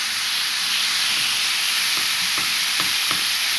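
A breaded chicken cutlet fries in oil in a pan, giving a loud, steady sizzle with a few soft taps and scrapes near the end, heard up close without speech.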